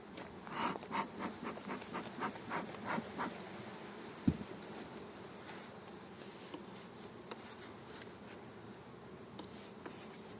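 Bees buzz in a swarm box, a dense droning hum with rhythmic pulsing swells early on, one brief sharp knock midway, then steadier buzzing.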